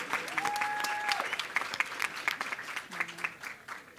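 Applause and clapping from a crowd at a nursing school white coat ceremony as BSN Cohort 5 nursing students come up, steady throughout with brief voices over the top in places.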